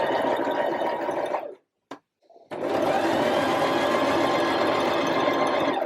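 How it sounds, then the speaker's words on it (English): A domestic sewing machine runs a steady top stitch along a tie back top, whirring continuously up close, stopping briefly with a couple of soft clicks, then resuming its even hum. "I'm just going to sew straight over the top of that"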